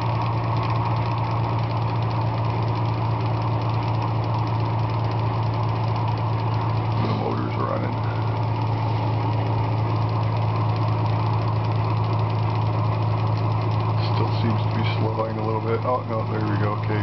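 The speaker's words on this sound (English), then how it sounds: "the motor's running. You can hear the wheel slowing down." A Bedini motor with an eccentric pickup coil wheel runs with a steady low electrical hum and drone. A person talks over it as the wheel's whir gradually slows.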